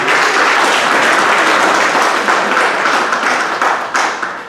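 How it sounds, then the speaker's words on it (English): Loud, dense applause from an audience at a maternity fundraiser, many hands clapping close by in a steady wash that thins slightly toward the end. "Maybe a round of applause for us once again."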